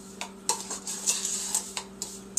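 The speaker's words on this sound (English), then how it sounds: "we'll give those a little swirl in the bowl" Whole wheat flour and salt are swirled in a mixing bowl, giving faint, close scraping and light ticking taps in an uneven rhythm.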